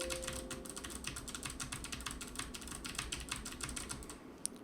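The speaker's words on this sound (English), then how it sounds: "let's type on my keyboard real fast." Fast typing on a computer keyboard, a dense run of crisp clicking keystrokes that continues steadily throughout, close to the mic over a low background hum, with no talking.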